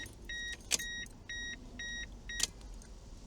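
A Mazda Miata's electrical warning chime beeps after the battery is connected, a regular series of clear tones with a couple of sharp clicks and key jingles close by in a quiet space.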